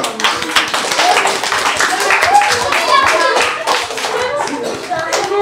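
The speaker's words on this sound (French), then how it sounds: "On peut l'applaudir." Children at a magic show applaud loudly and close by with a dense, fast patter of hand claps. Young voices call out and chatter underneath.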